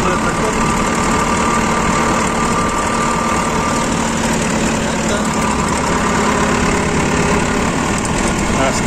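A steady, low tractor engine rumble runs throughout with constant vibration, close and continuous, as the tractor drives slowly over a planted cornfield.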